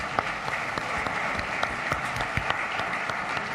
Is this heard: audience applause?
yes